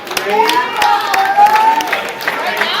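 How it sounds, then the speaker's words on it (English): Applause and scattered cheers fill a room at a youth hockey banquet for 13U players, steady clapping from a crowd with voices mixed in. "Let's give these guys a round of applause for the last time they're going to cross the stage"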